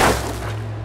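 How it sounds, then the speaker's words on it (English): A single gunshot from a handgun in the video game Alan Wake, a loud abrupt crack at the start that decays into a lingering low rumble. "I shot him in the head."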